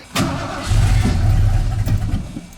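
A junkyard truck engine with freshly retimed distributor cranks briefly, fires up and holds a rough, close, rumbling idle.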